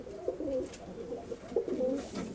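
Soft, low pigeon cooing repeats in a few rolling phrases, close by, over faint background noise.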